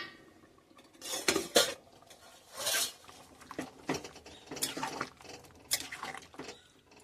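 Metal pot and lid clatter and scrape in a kitchen as a lid comes off a pot of boiling potatoes with jackfruit and prawns cooking in coconut, a few sharp clanks and rubbing sounds, close and fairly loud.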